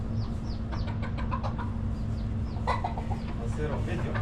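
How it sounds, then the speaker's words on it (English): Baby chicks and chickens cluck and peep close by on a mountain hotel farm in Spain, with a steady low hum underneath and occasional voices nearby. "So they also have some baby chicks."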